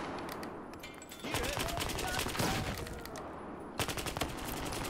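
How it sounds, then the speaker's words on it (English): Gunfire in a first-person shooter, a dense burst of rapid shots and blasts lasting several seconds, pausing briefly before another flurry of shots, loud and close over background game noise. "Ooh, that guy had a shotgun."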